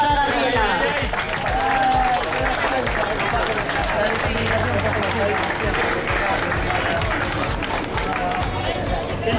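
Outdoors at a mountain bike race awards ceremony in Puebla de Sanabria, a crowd keeps up sustained, dense applause with chatter and voices mixed underneath throughout.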